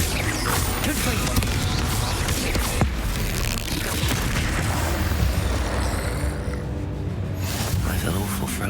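Spell explosion from Confringo cast in Hogwarts Legacy, loud blasts and crackling bursts over a dense, busy game soundscape, with a voice talking through it.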